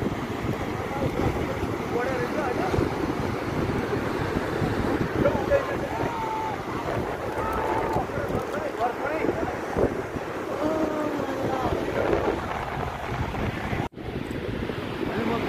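The flooded Marpha Khola in Mustang roars in a broad, continuous wash of rushing water, heavily buffeted by wind on the microphone, with a voice speaking over it throughout.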